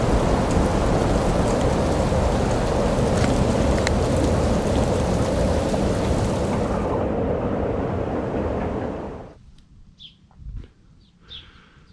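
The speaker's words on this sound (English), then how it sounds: "that night a big storm really hit us" Big storm at a lake at night: heavy, steady rain with rumbling thunder for most of the stretch, then it cuts to near quiet with a few faint knocks and bird-like chirps.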